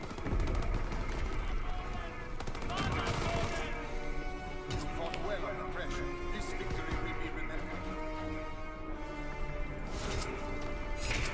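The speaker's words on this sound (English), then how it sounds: "that's the use of the MP40" MP40 submachine gun fire in the World War II shooter Call of Duty WWII, with loud, continuous automatic bursts and crashing explosions under a player's talk.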